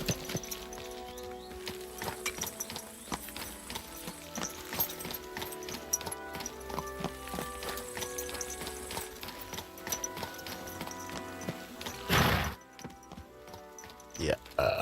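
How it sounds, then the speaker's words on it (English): A horse clip-clops along in Kingdom Come: Deliverance 2, its hooves falling in a steady, fairly quiet rhythm with soft gear jingles, ending in a brief burst of louder noise. "Yeah, good horsey."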